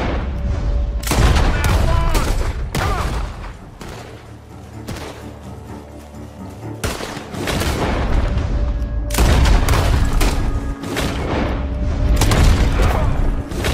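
Repeated gunfire and heavy booming shots in Red Dead Redemption 2 ring out in loud irregular bursts and volleys with short lulls between them, while a voice shouts a few words.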